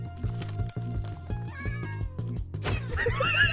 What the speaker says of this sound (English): Come here, you stinky little cat.